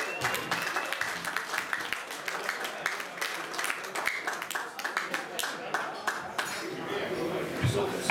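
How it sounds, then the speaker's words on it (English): Clapping from an audience at a comedy carnival night greets Tim Fielding in a scattered, moderately loud burst, with a chatter of voices running through it. "Tim Fielding, big round of applause"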